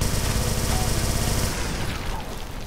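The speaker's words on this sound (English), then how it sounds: "Want to blow that barrel now" An exploding barrel in the shooter Brutal DOOM, heard as a dense burst of loud, rapid blasts and gunfire that roars for about a second and a half before fading into a rumbling tail.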